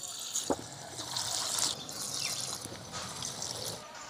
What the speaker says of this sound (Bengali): আমি কড়াই রিফাইন্ড তেল দিয়ে দিলাম, সজনে ফুলের বড়াগুলো দিলাম।